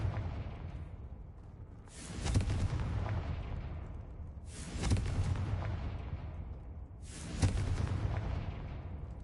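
Three loud spell blasts go off in a fantasy video game, each a sharp broadband crack that rumbles off in a long roar. They come roughly every two and a half seconds over a steady low ambient bed.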